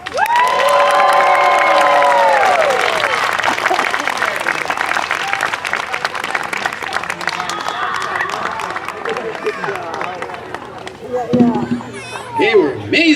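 Children dance while an audience claps and cheers at a library summer concert featuring an Afro-Brazilian ensemble; loud sustained applause, shouts and whoops from a crowd, with voices calling out over it.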